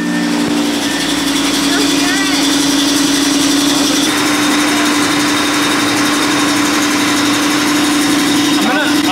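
A stage 2 tuned Audi TT RS engine runs at a steady idle after start-up, a dense, loud, constant hum with ticking from exhaust leaks at the sleeves and mid-pipes, filling the whole stretch without pause.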